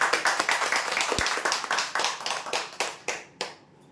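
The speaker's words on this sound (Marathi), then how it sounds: "जोरदार टाळ्या." An audience at a prize draw event claps in a quick, steady burst of applause lasting several seconds, close and loud, tapering off to a few last claps.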